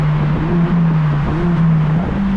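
A car fitted with a new intake drones steadily under acceleration, its engine tone rising slightly, dipping at a gear change, then climbing again, heard close from inside the cabin with no talk.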